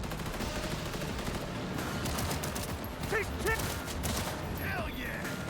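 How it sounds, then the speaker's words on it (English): Pistol gunfire in Cyberpunk 2077, rapid sharp shots in dense bursts over a busy game backdrop, with brief voice sounds in the middle. "I'll swap over to my fast pistol"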